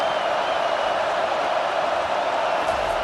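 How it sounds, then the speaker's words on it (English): Texas Longhorns home crowd at a college football game against Sam Houston, a loud steady roar of cheering filling the stadium without any clear talk. "how nice is it to have the home crowd going absolutely bananas"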